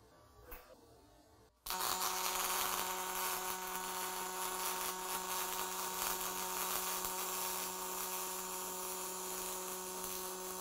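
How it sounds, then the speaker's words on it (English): An automated circular welding machine runs a weld, a loud, steady electric buzz and hum that starts abruptly after a brief quiet moment and holds evenly to the end. "And our weld is complete."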